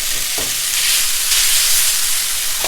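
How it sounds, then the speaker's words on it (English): Drained spaghetti is tossed in a hot pan, giving a loud, steady, close sizzling hiss with a brief clatter near the start. "I've drained my pasta and I'm going to add that to the pan. Give that a little bit of a toss."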